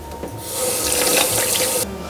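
Kitchen tap water runs steadily into a sink as a spoon is rinsed, a close, loud, continuous splashing rush that starts abruptly and cuts back slightly near the end.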